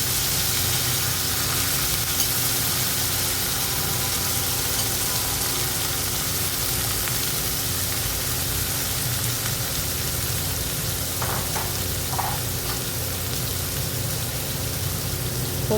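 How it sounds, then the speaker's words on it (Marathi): Ridge gourd pieces sauté in oil in a kadhai after a tempering of asafoetida, cumin, garlic and curry leaves, giving a steady, even sizzle close by with no voices. "तेलावर 2 मिनटं परतून घेऊया"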